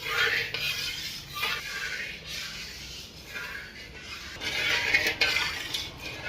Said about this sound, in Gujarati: લીંબુના ફૂલ, ખાંડ, નમક બધું ઓગળી જાય ત્યાં સુધી આપણે મિક્સ કરી દઈએ